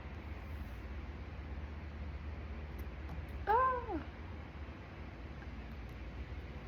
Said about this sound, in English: My cat is like playing with her tail right now.